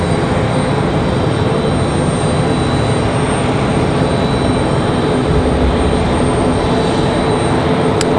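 A FedEx ATR turboprop airliner passes by at a busy airport, its engines a loud, steady broadband roar that holds throughout without any pauses.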